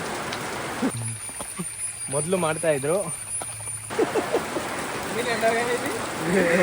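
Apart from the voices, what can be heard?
heavy rain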